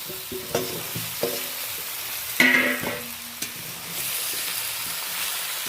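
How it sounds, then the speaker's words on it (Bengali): Pumpkin and ridge gourd sauté in a pan, with a utensil scraping and clinking in several distinct strokes over a continuous sizzle that grows brighter toward the end, close and with no talking. "সব সবজিগুলোকে বেশ ভালো করে কষিয়ে নেব"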